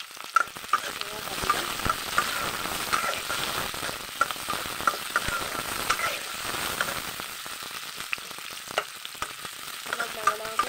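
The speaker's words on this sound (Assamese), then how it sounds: "অলপমান মই ভালকৈ ভাজি ল'ম" Ingredients for khichdi fry in a hot pan, a continuous close sizzle broken by frequent scraping stirs from a utensil, with no voices throughout.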